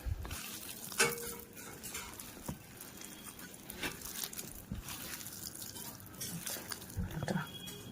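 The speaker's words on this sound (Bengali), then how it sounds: "আলুটা ভালো করে মেখে নেবো।" Boiled potato mashed by hand with chilli for a fuchka filling, heard as soft, wet squishing and patting in an irregular rhythm, close and fairly quiet, with a few sharper taps.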